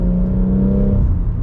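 A Stage 2 tuned BMW M140i engine holds a steady, loud rumbling drone, close and unbroken, with a deep hum dominating throughout.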